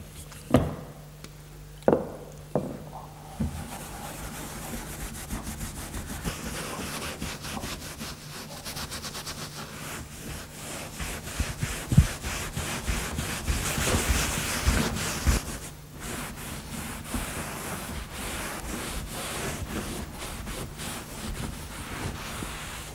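Steel wool soaked in methylated spirits rubs old varnish off wooden furniture in long, rhythmic abrasive strokes, close and steady after a few sharp knocks at the start.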